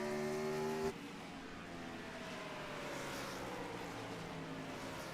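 Race cars lap a track in a racing video game, including the number 88 car, with a quiet, sustained engine whine that drops in pitch early on, then continues as a steady drone.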